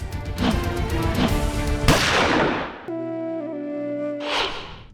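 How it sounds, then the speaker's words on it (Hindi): A gunshot fired inside a house, in a televised crime-drama reconstruction: a loud, sharp blast that decays into noisy rumble, layered among dramatic music and other hits. "और उसने गोली चला दी।"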